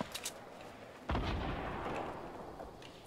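A grenade launcher in Fortnite fires with a single deep, booming blast that rings out and slowly decays, preceded by faint small clicks.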